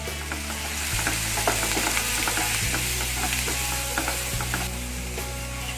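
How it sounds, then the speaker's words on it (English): Garlic, chili, cumin and coriander powder sizzle in a hot pan for a mushroom and baby corn curry, a steady close frying hiss with scattered clicks and scrapes of stirring, no talk. "While this is sauteing, add little garlic and chili as well"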